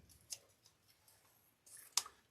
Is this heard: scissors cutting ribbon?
yes